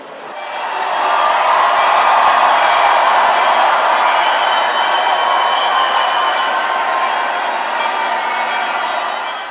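A large crowd in Jerusalem raises a joyful cry as the holy fire is kindled, a sustained roar of cheering voices that swells quickly, stays loud and full, then eases slightly toward the end.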